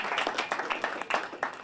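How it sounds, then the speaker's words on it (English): Audience applause for officials at the Banning Apartments groundbreaking, a brief patter of scattered hand claps from a small outdoor crowd, moderately quiet and uneven. "Can you give them a round of applause for being here?"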